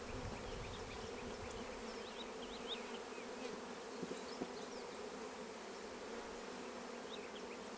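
Honey bees drone steadily around opened hive frames during an inspection, a dense, continuous buzz close by with no talking.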